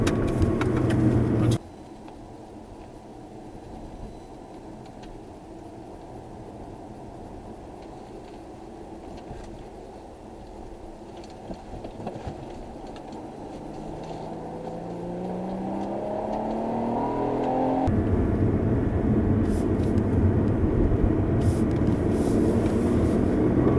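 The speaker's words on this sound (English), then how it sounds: "I'm just gonna take it around these corners a little bit quick just to show you" A 2010 Acura TL SH-AWD with a manual gearbox taken quickly through corners, heard from inside as a steady road and engine drone that rises in pitch and grows louder as the car accelerates.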